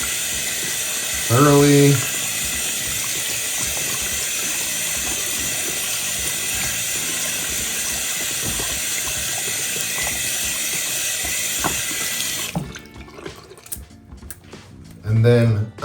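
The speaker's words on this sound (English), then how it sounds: "And then we're just gonna rinse it off" Water from a tap runs steadily to rinse conditioner out of a coin brush, a loud even rush lasting most of the clip before it cuts off, with brief talking at the start and end.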